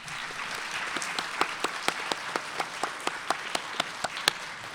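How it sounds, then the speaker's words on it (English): Graduation audience at a college commencement applauds in a soft, distant wash, with a few sharper individual claps popping out at a regular beat above the crowd. "Please recognize them by your applause and thank them"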